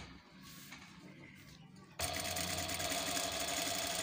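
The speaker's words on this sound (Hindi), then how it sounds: "ये ब्लाउज की सिलाई हो रही" A sewing machine stitches a blouse, first a quiet whirr under faint speech, then abruptly running loud and steady with a fast, even mechanical hum for the last two seconds.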